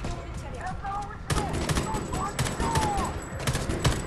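Player gunfire in Homefront: The Revolution snaps out in scattered bursts of quick, sharp shots, loud and close, with someone talking through the sequence.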